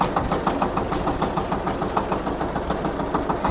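A Shifeng 244BF mini tractor engine runs steadily in first high gear, a close, continuous mid-pitched chugging drone with an even pulsing rhythm and no talk.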